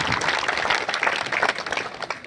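A crowd claps steadily, a dense patter of applause that stays fairly even and moderately loud throughout.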